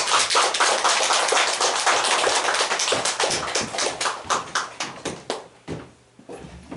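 Church congregation clapping to welcome a pastor at a church anniversary service, starting as loud, dense applause and thinning into scattered, distinct claps that slow and die away, with no talking over it.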